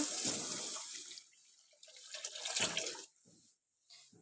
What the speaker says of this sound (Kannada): ಇದಕ್ಕೆ ನಾನು ನೀರು ಹಾಕ್ತಾಯಿದ್ದೀನಿ